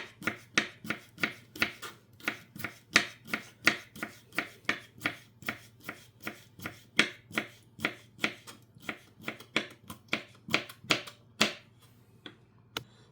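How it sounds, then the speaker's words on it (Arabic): A knife finely chops cucumber, parsley and turnip for salad on a board, crisp, close strokes in a quick, fairly even rhythm, around thirty cuts, with no talking. "هيك بهذا الشكل الناعم خليني افرم السلطة"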